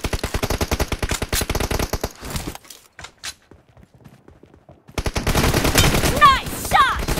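Gunfire from PUBG Mobile in a team deathmatch: rapid, loud automatic bursts, then a brief near-silent lull, then more sustained firing mixed with other game effects.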